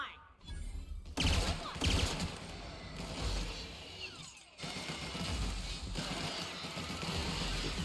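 Machine gun fire in The Outer Worlds video game, dense bursts of rapid shots with clattering impacts, loud and near, broken by a couple of brief pauses.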